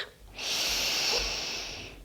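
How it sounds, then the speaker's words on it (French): During a vinyasa yoga breathing exercise, one long, forceful breath is pushed out through a wide-open mouth, a breathy rushing hiss that swells and then tapers off over about a second and a half, close and alone. "Ouvre grand la bouche, expire et souffle."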